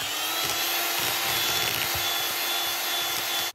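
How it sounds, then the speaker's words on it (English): A whisk rubs and scrapes briskly around a bowl of icing sugar, breaking up lumps in a quick, steady rhythm of close, dry swishes before it stops. "I'm just going to give it a whisk to get any little lumps out."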